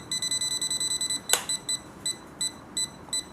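A Themisto TH-M100 multimeter beeps as it detects high voltage once a switch is turned on. Rapid regular electronic beeps come close and clear, broken by one short click, then slow to spaced beeps.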